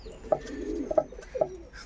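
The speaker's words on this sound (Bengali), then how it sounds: "এই যে আন্দারা পায়রা নর পায়রা এটা" A male Andara pigeon coos close by, three short soft calls spaced about half a second apart over quiet background.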